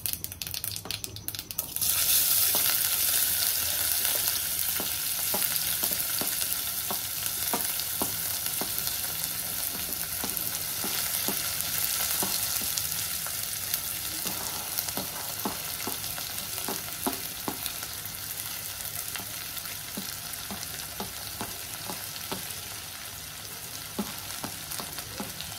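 Finely chopped vegetables sizzle and crackle in hot oil with mustard seeds and half a spoon of turmeric, a loud steady frying hiss with scattered sharp pops and spoon scrapes throughout, no voices.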